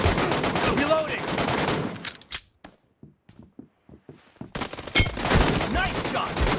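Gunfire in a BGMI team deathmatch: dense rapid automatic bursts, loud and close, break off into a few scattered single shots and then resume as continuous heavy firing.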